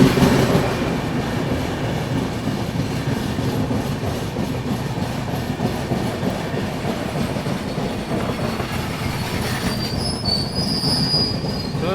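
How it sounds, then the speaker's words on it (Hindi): A passenger train rolls through Panki Dham station without stopping, steady loud rumble of wheels on rails with clattering joints and a high metallic squeal rising near the end. "यहाँ पर अपनी ट्रेन जो है पनकी धाम स्किप कर रही है"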